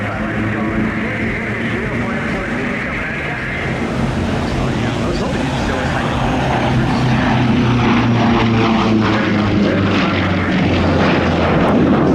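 Yak-110 aerobatic aircraft engines roar loudly and steadily at an airshow, a propeller drone building and swelling in intensity, with faint voices mixed in.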